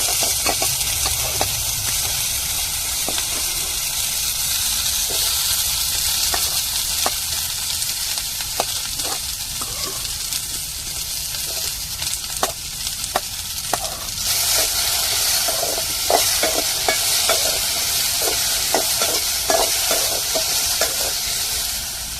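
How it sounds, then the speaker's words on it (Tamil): Okra sautéing in a little oil for tamarind gravy (vendakkai puli kuzhambu) makes a loud, steady sizzle, broken by frequent scraping stirs of a spatula against the pan. "புளிக்குழம்புக்கு நல்லா வதக்கி எடுத்துக்கணும் லைட்டாக எண்ணெய் வச்சு வதக்கினாலே போதும்"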